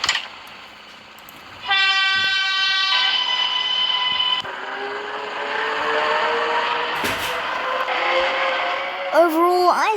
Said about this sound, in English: Here goes the train departing platform 1.